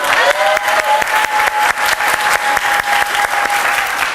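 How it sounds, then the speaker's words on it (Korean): A church congregation bursts into warm applause and cheering, dense rhythmic clapping that pulses loud and steady, with a sustained tone ringing faintly underneath. "뜨거운 박수와 갈채."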